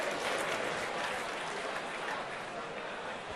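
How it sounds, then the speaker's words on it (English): A sellout crowd at a darts world championship match at Frimley Green gives sustained, even applause in a large hall, heard at a distance beneath a commentator's voice. "Appreciative crowd, sellout crowd here at Frimley Green."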